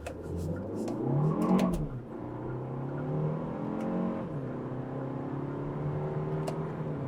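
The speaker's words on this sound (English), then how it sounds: "So let's get back up to highway speed. We'll use the paddle shifters while in sport mode." A 2025 Kia K4 GT Line turbo accelerates in sport mode using paddle shifters, its engine note rising steadily, dropping at two quick upshifts, then climbing again, heard from inside the cabin without talk.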